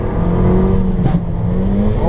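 A car on an autocross run holds a loud, close engine drone at steady pitch, with a brief dip and surge around the middle as if shifting, with no voices.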